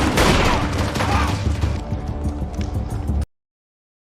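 A dense burst of rapid enemy gunfire in a drama series crackles over rumbling noise for about three seconds, then cuts off abruptly into silence.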